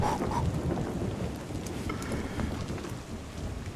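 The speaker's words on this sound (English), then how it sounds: "dude, that thunder is gnarly" Steady rain with rolling thunder during storm mode in the Arena Breakout video game, a dense continuous wash of noise with a low rumble underneath, fairly quiet and without talking.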